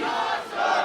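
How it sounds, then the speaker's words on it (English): Wrestling crowd chanting for the Northeast Beast in the Yarmouth Vets hall at a Limitless Wrestling show, a loud sustained roar of many voices filling the room, dipping briefly midway before swelling again. "The Northeast Beast chants filling the Yarmouth Vets. Crowd letting him hear it"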